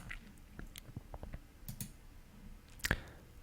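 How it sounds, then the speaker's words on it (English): Computer mouse clicking, a short run of small dry clicks at close range with a sharper click near the end, in a quiet room. "I'm just gonna click one more time"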